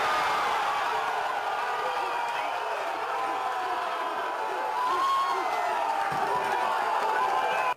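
Large crowd of Inter football fans in a stadium roaring and cheering after a D'Alessandro penalty, a steady, dense wall of shouting that swells slightly toward the end.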